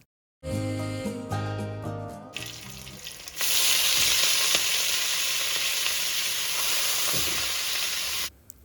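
Vegetables hit a hot iron griddle tempered with cumin and garlic, bursting into a loud, steady sizzle that rises sharply partway through and holds until cutting off near the end, with no voices.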